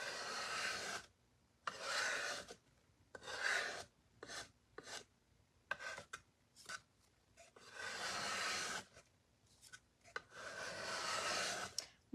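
A hand scraper rasps in repeated bursts while a patriotic DIY home-decor centerpiece is being made, with strokes of roughly one to two seconds separated by short pauses, close and fairly loud.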